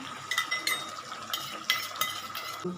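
Crushed garlic and whole green chillies frying in a pan for chicken gravy: a steady hiss with irregular scraping and stirring bursts, close and moderately loud, with no talking.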